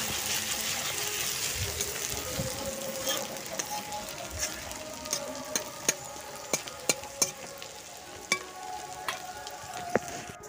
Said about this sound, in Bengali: রসুন দিয়ে দিলাম। এরপরে আমি ভালো করে নাড়াচাড়া করে নিচ্ছি।